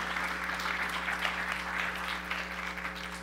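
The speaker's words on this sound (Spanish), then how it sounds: "Le damos un aplauso a Adrián" A church congregation gives steady, moderate applause for Adrián, a child, with continuous clapping over a low electrical hum and no talk.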